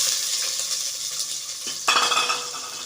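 Three large onions sauté in a pan for channa masala, giving a continuous close sizzle with a spoon stirring and scraping against the metal, and a louder clatter of utensils near the end.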